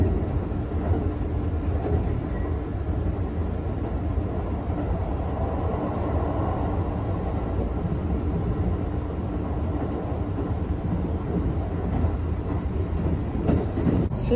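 A Kyoto-Osaka sightseeing express train runs along the line with a continuous, dense low rumble and rolling wheel noise. The sound is steady and close throughout, with no clear talking.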